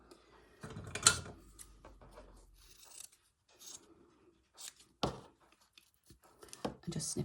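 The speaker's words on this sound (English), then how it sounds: "I'm just going to cut out my fabric, holding my template in place." Scissors snipping fabric around a held template, heard as sparse, quiet, irregular cutting and rustling noises with pauses, a louder crunch near the start and several short snips later.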